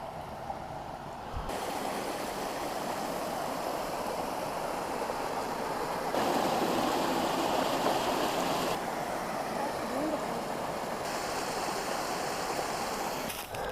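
A river stream in the Rich Hole Wilderness of Virginia's George Washington National Forest flows with a continuous rushing, gurgling wash, steady and fairly close, with no voices.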